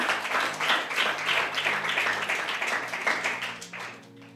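A church congregation claps together during a Sunday healing prayer and worship service, a dense sustained round of hand clapping that swells and gradually fades, with no clear speech over it.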